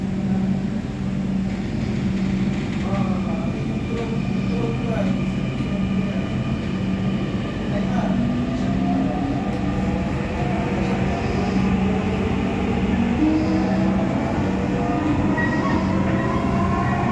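A Dhaka Metro Rail train at a station gives a loud, continuous rolling rumble, with a motor whine that climbs steadily in pitch as it pulls away, running unbroken for the whole stretch.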